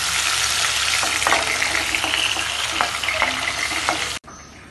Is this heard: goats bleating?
no